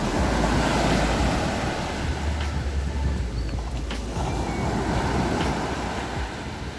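Sea waves wash steadily onto the shore in a continuous, loud roar with gusting wind buffeting the microphone, and no voices over it.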